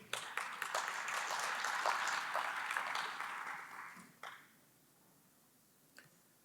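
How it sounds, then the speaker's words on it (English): A panel discussion audience on infrastructure investment claps as a panelist comes on stage, a moderate burst of applause for about four seconds that dies out into near silence with a stray clap afterward. "Round of applause, please"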